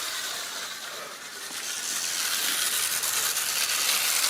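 A Hornby O gauge clockwork locomotive runs alone without wagons on a garden track, giving a steady, bright whirring hiss that grows slightly louder toward the end.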